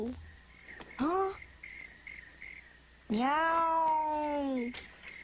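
A cartoon character's voice imitates a cat, giving a short rising meow followed by a long, drawn-out wavering one, both close and clear over a faint steady high chirping in the background.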